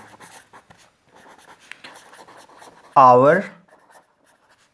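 A teacher writes a lesson heading on a classroom board, with scratchy strokes running under steady Hindi speech and a short, loud tonal burst near the end.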